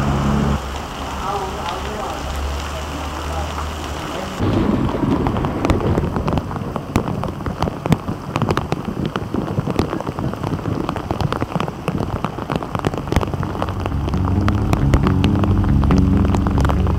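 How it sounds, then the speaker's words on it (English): A heavy tropical downpour roars steadily, dense rain drumming on surfaces, growing louder after a few seconds and staying intense throughout. "Tropical downpour."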